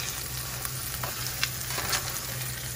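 Hamburger buns toasting in a hot pan give a steady close sizzle with a few light scraping ticks, and no voices.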